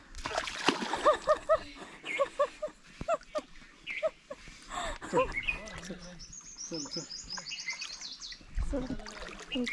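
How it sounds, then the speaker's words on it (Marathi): Irregular splashes and sloshing of feet moving through shallow water on the way to a village temple during a fair, with people talking and birds chirping now and then in the background. "शिवला पाण्यात पाय ठेवायला मजा वाटण आता"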